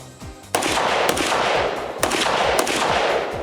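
An AK47 rifle fires at a target downrange in a rapid string of loud, sharp reports, with several shots following close together and heavy echo between them and no talking.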